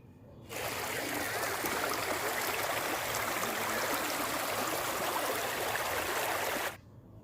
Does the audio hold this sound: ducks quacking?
no